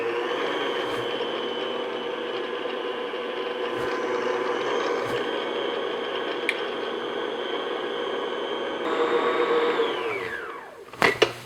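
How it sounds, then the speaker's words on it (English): Electric mixer beating eggs to a foam on low to medium-low speed, a steady, loud mechanical whir with a whining motor tone that winds down at the end, followed by a couple of knocks. "So what I'm going to do is just beat these until foamy, just on low to medium low."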